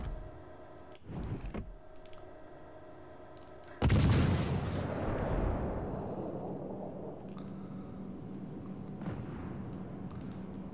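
Naval guns fire in the World of Warships video game: a quick mechanical clatter, then one heavy, close broadside blast that rolls off into a long rumbling decay over a steady engine hum.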